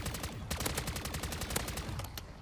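Rapid bursts of automated turret gunfire in the MW3 Zombies video game, a dense, continuous rattle of shots running throughout.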